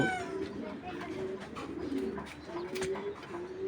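Racing pigeons at a loft coo in soft, repeated rolling calls close by, with a faint voice talking in the background.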